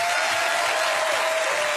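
Loud, steady clapping from a studio audience at a televised evening event greets a guest brought onto the stage, a brief continuous burst of applause with no pauses.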